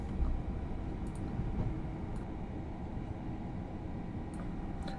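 Electric multiple unit train sounds from a Class 377/379/387 Electrostar in the Train Sim 2021 simulator: a steady, dense low rumble of wheels and motors running continuously, with faint higher squeals.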